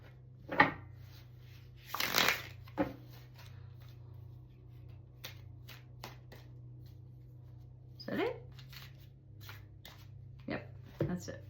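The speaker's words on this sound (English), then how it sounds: "we're going to shuffle one more time for the person." Tarot cards are shuffled in a few short bursts, riffling crisply between quiet stretches over a low steady hum, with soft talk nearby.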